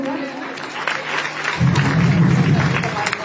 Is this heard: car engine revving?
no